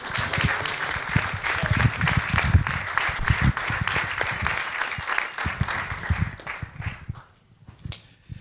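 Audience applause at a short film festival screening in Santa Cruz, uneven clapping with some sharp individual claps and faint voices, fading out near the end with a few final claps.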